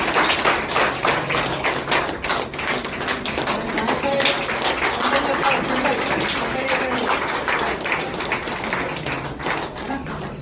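Lively clapping at an event celebrating a first-month Thailand trip achievement, dense rapid claps from a nearby group running steadily with some background voices mixed in.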